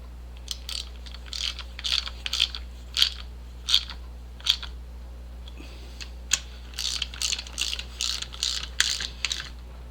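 Ratchet clicking in short repeated bursts while tightening the four bolts on a Yamaha XS650 motorcycle transmission, close and crisp over a steady low hum, with pauses between strokes.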